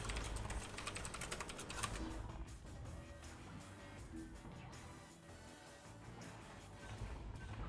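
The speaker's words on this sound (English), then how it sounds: "As you get to hear my loud keyboard." A loud computer keyboard clatters with quick, close keystrokes, densest in the first couple of seconds, then continues as lighter, scattered tapping.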